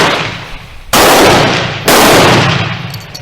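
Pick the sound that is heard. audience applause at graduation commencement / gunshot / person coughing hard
gunshot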